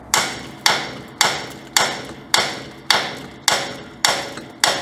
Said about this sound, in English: And a few taps on the knuckle.